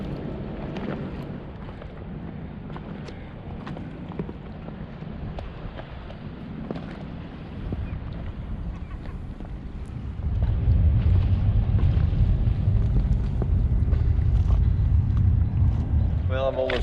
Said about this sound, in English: The wind's really picked up. You can see how choppy it is already